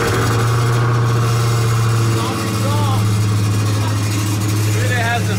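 A wrecked Dodge Hellcat engine runs after a weak start, a steady loud idle hum close by, with voices talking over it.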